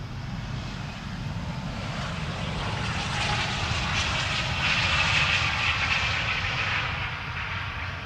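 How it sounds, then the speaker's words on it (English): A large airliner roars steadily at Schiphol while landing with thrust reversers deployed, a loud continuous broadband rush of engine noise that swells slightly toward the middle, with no talking. "Yes, don't be shy, pull up those reversers."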